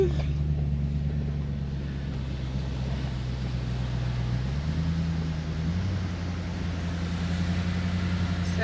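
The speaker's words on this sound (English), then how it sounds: "just continuing on driving on the beach, along the beach" A vehicle drives along a hard-sand beach from a jetty, a steady low engine drone heard from inside with road rumble and a slight shift in pitch partway through.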